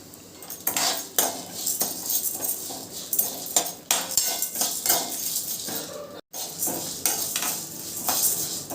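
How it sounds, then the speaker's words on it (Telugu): Lentils and curry leaves roast in oil for idli podi, with a metal spoon repeatedly scraping and clinking against the pan in quick irregular strokes over a soft sizzle, close and fairly loud. "కొద్దిగా అండి ఆయిల్ వేసుకుందాం. వేసుకొని ఇది రోస్ట్ చేసుకుందాం."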